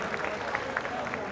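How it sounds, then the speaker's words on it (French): Audience applauds, a soft, steady patter of many hands with a few sharper claps, faint and somewhat distant, under a murmur of voices. "Applaudissements, s'il vous plaît."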